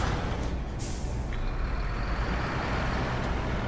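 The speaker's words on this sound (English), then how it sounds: "New truck going by." A heavy truck in the off-road driving game SnowRunner rolls past with a steady engine drone, a hiss of air brakes and a faint reversing beep, loud and continuous with no talking.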